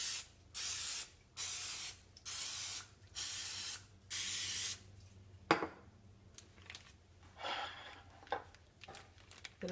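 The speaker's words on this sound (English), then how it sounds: "I'm going to give my pan a quick spray." Several short hissing bursts of cooking spray on a donut baking pan in a steady rhythm, followed by a metallic clunk and a few softer sprays.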